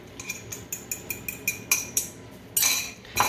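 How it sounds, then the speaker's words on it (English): Chopsticks whisk eggs in a hot buttered pan, giving quick rhythmic clicks and clinks against the pan, then a louder scraping rush near the end, close up with no talking. "You start whisking vigorously, both your hands and the pan at the same time."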